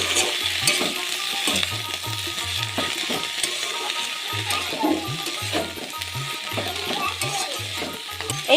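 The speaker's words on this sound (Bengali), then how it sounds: "আলুটা ভাজা হয়ে গেছে" Potatoes fry in fish oil in a wok, a steady crackling sizzle with a rhythmic scraping of a spatula stirring throughout, close and moderately loud.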